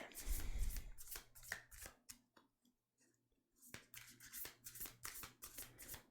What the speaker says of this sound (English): With this awkward silence as I shuffle the deck.